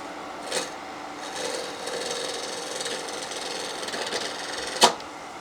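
A roughing gouge cuts an iroko wood bowl spinning on a lathe, giving a steady raspy scraping that ends in one sharp, loud knock as the tool catches.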